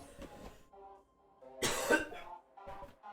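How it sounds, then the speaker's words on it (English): A man with a flu coughs a few times, close to the microphone, in short hoarse bursts separated by pauses, with one louder cough in the middle. "I might be coughing here and there."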